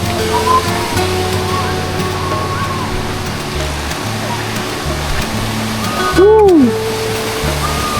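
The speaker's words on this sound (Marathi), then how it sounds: "हा हे बघा किती जोरात पाणी आहे." Steady, dense roar of Vasundhara Waterfall at Bhandardara fills the whole clip, loud and close, with a brief bird-like chirp partway through.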